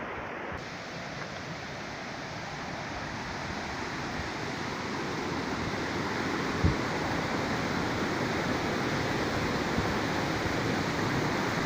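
An impressive waterfall near a village in the Italian Alps roars as a steady, dense wash of falling water, constant and fairly close with no voices.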